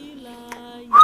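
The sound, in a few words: whistling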